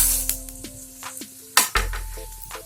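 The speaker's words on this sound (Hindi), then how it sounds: "इसके बाद इसमें हम सेवइयां डाल देंगे।" Vermicelli (sewai) sizzles in a pan as it is fried for kheer, a close, soft frying hiss broken by clinks and scrapes of a utensil stirring against the pan.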